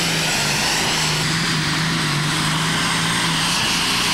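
A pulling tractor with a Deer Hunter engine roars steadily through a full pull at a European tractor pulling event in Bernay, France, its loud, sustained droning howl filling the clip alone without pause.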